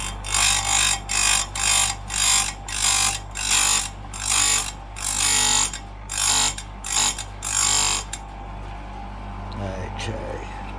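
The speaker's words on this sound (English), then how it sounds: "Turn the grinder on and proceed to grind nice and slow." A chainsaw grinder slowly grinds a chain tooth into a hexagonal profile, giving a series of rasping bursts of about half a second each over a steady motor hum, then the grinding stops and only the motor runs on.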